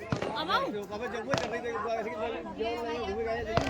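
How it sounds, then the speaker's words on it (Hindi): A groom sets off firecrackers at a village wedding in India. Three sharp, distant bangs are spaced a few seconds apart, while someone talks over them throughout. "वो देखो दूल्हा उधर है, पटाखे फोड़ रहा है"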